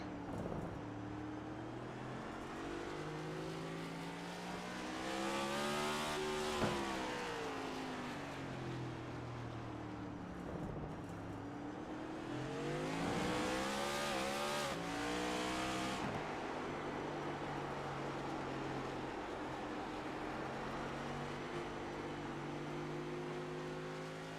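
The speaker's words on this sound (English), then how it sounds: "I'll stop talking here and you can listen to the throttle work" A Cup Series race car engine in the All American Racing League racing game at COTA, loud and continuous, climbing and falling in pitch as the throttle opens and lifts through repeated gear shifts and corners, with no talking.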